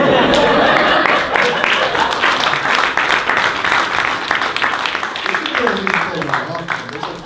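A crowd at a live comedy podcast show breaks into loud applause, dense at first and then thinning as voices begin talking over it.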